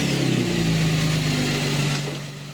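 A 2015 SHO engine runs steadily just after an oil change, with a loud, close, even hum that eases slightly toward the end and no talk.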